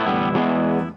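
A clean electric guitar with humbucker pickups sounds a single strummed chord that rings steadily for about a second before fading, with no voices.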